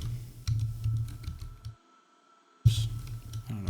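Brisk clacking of a computer keyboard being typed on, a close run of keystrokes that stops for about a second, then resumes.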